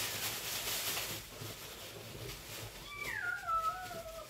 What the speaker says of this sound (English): my cat's trying to get in